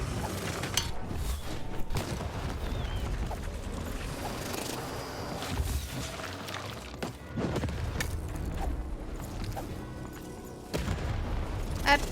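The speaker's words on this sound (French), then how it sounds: "Shoot the button to fire the cannon" Cannon blasts from the video game Lost in Random, with several heavy booming shots spread over busy in-game noise and clatter, fairly loud throughout.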